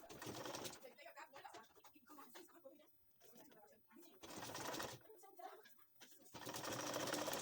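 Sewing machine stitching a corset cup along its curved shape, in dense bursts of motor whir with short pauses between runs, fairly close, with a voice talking during the quieter gaps.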